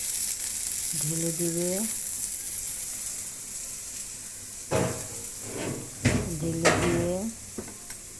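Onions frying in a pan after cauliflower and potatoes, a steady soft sizzle running throughout, with a few sharper stirring bursts near the end and someone briefly speaking over it.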